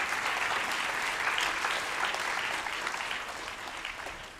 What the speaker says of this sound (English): Can we also have a big round of applause for Prem Sankirtan Prabhu and Bharati?